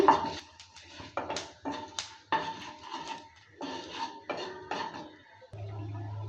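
A utensil stirs mixed vegetables with panch phoron in a pan, giving repeated close scraping and clinking strokes in irregular bursts, followed by a steady sizzle near the end.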